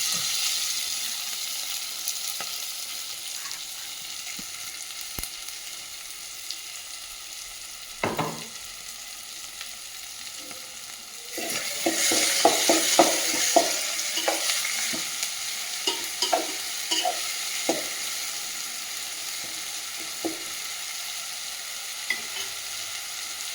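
Onions sauté in oil in a village kitchen for a river carp fish curry, a steady quiet sizzle that swells louder midway, with spoon scrapes and clinks as they are stirred, close by.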